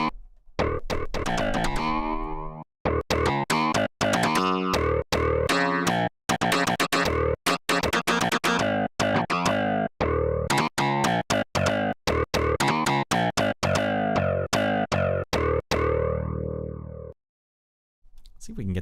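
Arturia SQ80 V software synthesizer run through heavy distortion: loud, buzzy, harmonically dense notes played in choppy bursts and sustained lines, with brief silent gaps between phrases and a short pause near the end.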